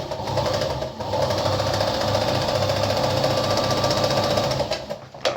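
An Anker model RZ treadle sewing machine stitches fabric at a tighter stitch length of about 3, a loud steady mechanical whir that runs unbroken for several seconds, with a short pause near the start and a slowdown at the end.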